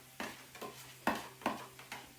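A fajita mix is stirred in a pan, with about five distinct scraping strokes at a loose, uneven rhythm over a low sizzle, close and fairly quiet.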